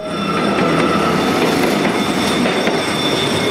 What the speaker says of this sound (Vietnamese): Tiếng chuông báo leng keng, tiếng còi inh ỏi đã trở thành những âm thanh quen thuộc của người dân xóm đường tàu.